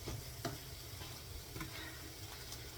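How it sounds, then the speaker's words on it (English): Soft, steady sizzling of food frying in a pan, with occasional faint clicks and stirring scrapes, fairly quiet and continuous. "So now it's just frying these."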